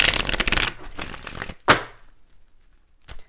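Dense crisp tarot card shuffling riffles for about a second and a half, then a single sharp card snap, silence, and another brief riffle at the end.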